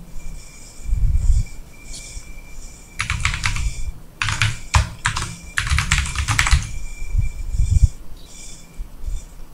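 Bursts of computer keyboard typing, rapid clustered key clicks with short pauses between runs as an email address is entered, close and clear over a faint background hum.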